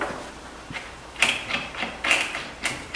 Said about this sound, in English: just go ahead and get a little wrench, box end, open end, whatever,